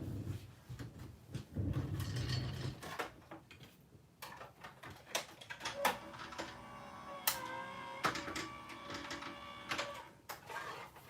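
A die cutting machine runs a card die held with Post-it tape through its rollers, giving a steady mechanical rumble with clicks and clunks, close and moderately loud, with no talking.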